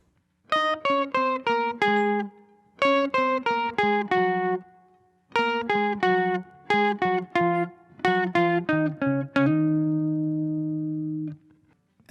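Electric guitar plays a phrase slowly, clean plucked notes in quick descending runs with short pauses between groups, ending on a long sustained low note, loud and alone.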